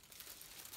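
Plastic wrap crinkles and tears as it comes off a Harry Potter and the Deathly Hallows Part 1 limited edition Blu-ray steelbook, a brief continuous close rustle.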